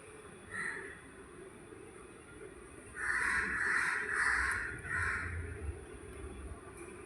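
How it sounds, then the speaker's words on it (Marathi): Crows caw outdoors at about half past five in the morning, a cluster of harsh calls midway through, faint and somewhat distant over a steady background hum with occasional small bird chirps. "पक्ष्यांचा आवाज येतोय, किलबिलाट होतोय, कावळ्याचा वगैरे."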